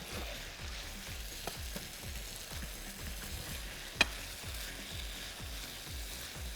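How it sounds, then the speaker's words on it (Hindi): Korma being stirred in a frying pan, with a steady sizzle and a regular rhythm of scraping strokes about twice a second, close and moderately quiet, with one sharp clink partway through. "इसको अच्छे से हम मिक्स कर लेंगे"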